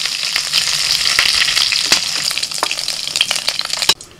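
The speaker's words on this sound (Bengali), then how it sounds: "মাছের মাথা ভাজা হয়ে গেছে" Katla fish head frying in a pan of hot oil, a close crackling sizzle with sharp spattering pops that stops abruptly near the end.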